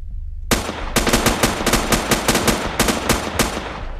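Rapid bursts of gunfire from the survival video game Next Day Survival, loud and close, firing in repeated volleys with short gaps between them and no talking.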